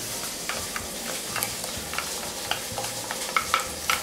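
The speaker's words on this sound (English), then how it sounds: "as you add the miso, you just stir it and turn up the heat" Miso paste stirred into dashi stock for miso soup, heard as soft, close scraping and swishing with small clicks of the utensil against the pot over a quiet background.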